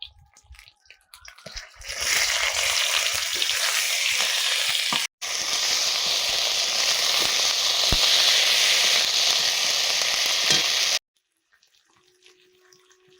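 A ground paste of onion and a little garlic hits a hot pan and bursts into a loud, steady sizzle that holds for about nine seconds, then cuts off abruptly.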